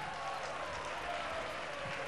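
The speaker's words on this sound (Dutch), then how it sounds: "En krijgt applaus." Steady, even applause from a crowd in a sports hall at a December 1990 volleyball tournament match. It rolls on without a break and sounds somewhat distant, with faint crowd murmur mixed in.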